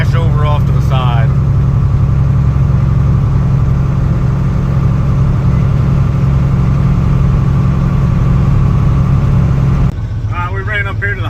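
A John Deere 4430 tractor idles while warming up during a winter ice storm, its deep, steady engine rumble filling the whole stretch, with a person briefly talking near the start and end.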